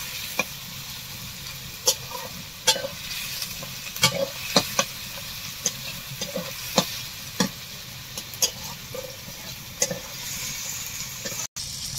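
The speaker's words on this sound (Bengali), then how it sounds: "এরপর আমি ক্যাপসিকামটা দিয়ে দেবো। ক্যাপসিকামটা কিছুক্ষণ ভাজবো।" Capsicum and onion frying in a pan for chicken tadka, a steady sizzle broken by frequent sharp clinks and scrapes of a spatula stirring, close and moderately loud with no talking.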